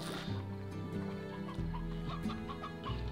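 Stony hens in Slime Rancher cluck steadily and close by, a run of short throaty clucks overlapping one another against a constant low game background hum.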